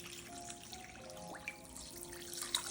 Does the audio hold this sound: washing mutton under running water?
yes